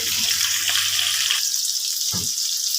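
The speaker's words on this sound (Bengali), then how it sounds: "এবার পটলগুলোকে আগে ভেজে তুলে নিচ্ছি।" Pointed gourd pieces seasoned with salt and turmeric fry in hot oil in a pan, giving a steady close hiss with a few brief bubbling bursts and light handling noises, and no voices.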